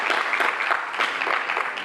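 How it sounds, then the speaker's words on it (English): Audience at a summit clapping, a dense, even burst of applause from many hands, fairly near and steady throughout. "Please join us in giving them a round of applause for sharing such unique,"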